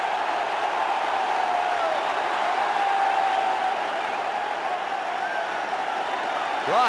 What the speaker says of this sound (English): The crowd here are on their feet.